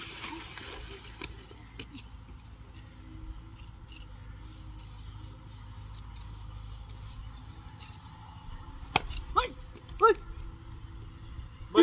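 A dog lets out a few short barks and yips near the end, after a long stretch of low rubbing and scraping noise, with faint voices in the background.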